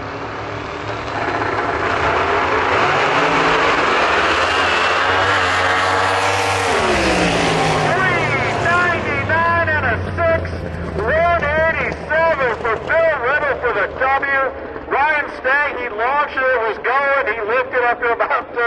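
Drag racing cars roar off the line at Milan Dragway in a 2023 heads-up series race. Loud engine noise builds, followed by rapid rising and falling gear-change revs as the cars pull away.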